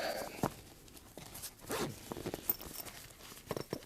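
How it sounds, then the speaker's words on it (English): Canvas Sega Game Gear carry case with a strap being unzipped around its top, a quiet close-up run of short zipper rasps and clicks, alone without talk. "So we have the strap, and it zips around the top."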